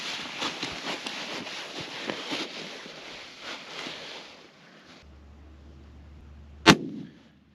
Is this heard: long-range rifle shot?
yes